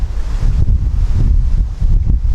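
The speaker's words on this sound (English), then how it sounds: "It's very windy." Strong wind from the tail end of a hurricane buffets the microphone outdoors with a constant low roar and gusty rumbling, loud and close, with no voices.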